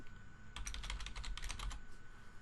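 Rapid typing on a computer keyboard in a quiet room, a steady run of close, crisp keystrokes lasting under two seconds, with no voices.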